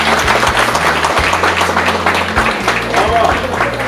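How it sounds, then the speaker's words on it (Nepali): Guests applauding at a Christian wedding ceremony, a dense wash of clapping over a low background hum, with a voice speaking over it. "ताली बजाउँ।"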